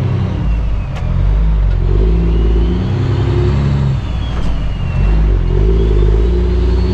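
A diesel truck engine hauling lumber idles and revs with a deep, throaty growl, loud and close, holding steady with slight surges throughout.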